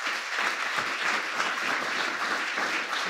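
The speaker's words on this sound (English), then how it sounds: "You better get an applause after that one." A crowd applauds during a World AIDS Day presidential speech, a steady wash of dense clapping that stays level throughout the short stretch with no talk over it.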